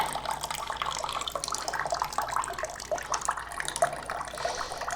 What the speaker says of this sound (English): I didn't expect this much water to come out of here, but you're supposed to go ahead and let that drain out.